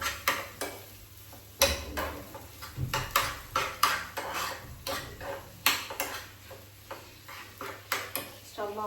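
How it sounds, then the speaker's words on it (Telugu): Potato garlic rice with turmeric fries in a pan, with rhythmic spatula scrapes and clanks against the metal every second or so over a soft, close sizzle. "ఇప్పుడు బాగా ఫ్రై చేసేసుకుందాం."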